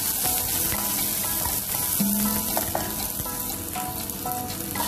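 Ginger sizzling with garlic in hot oil for Filipino chicken tinola, a dense steady frying crackle with occasional stirring clinks, close and loud, no voices.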